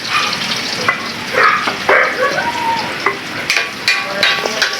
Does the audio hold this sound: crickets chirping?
no